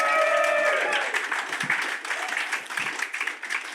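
An open mic audience applauds, with dense clapping and a bit of crowd noise rising at first, then thinning and scattering as it fades, with a whistle-like tone near the start.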